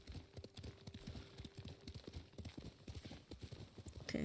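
Steady clip-clop of a horse's hooves in a video game, rhythmic and fairly close with a faint tonal hum underneath.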